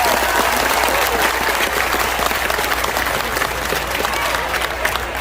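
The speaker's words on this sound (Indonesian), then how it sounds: "Tepuk tangan untuk BMI, keren ini." Dense audience applause from a large crowd at a religious gathering in Changhua, Taiwan, sustained and loud for the whole span with a low hum beneath and a few voices mixed in.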